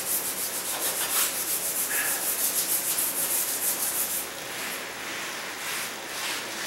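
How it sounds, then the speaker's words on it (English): Bare hand rubbing tar mastic remover into black tar mastic on a floor, a steady scrubbing rasp in repeated strokes, close and fairly quiet, with no talking. "I can rub that with my hand to see how well it's eating up the tar"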